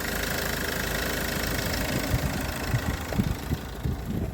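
A warmed-up car engine idles steadily with a low, rumbling exhaust note, close and continuous, with a few slightly louder pulses toward the end.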